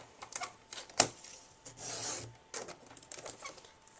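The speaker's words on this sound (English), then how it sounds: "I'm going to use my trimmer, and I'm going to cut off about 1 inch of the opposite end." A paper trimmer slicing card stock, quiet close scraping and rasping strokes with a sharp click near the start and a short swish of the blade, faint and with no talking.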